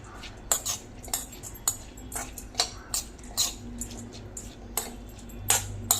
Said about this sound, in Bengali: এবার এই চামচ দিয়ে ভালো করে সব মিশিয়ে নেব